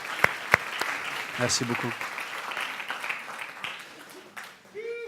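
Applause for the cooks and servers at a church gathering, a broad wash of clapping that runs through the clip with a couple of sharp claps near the start, while voices speak over it.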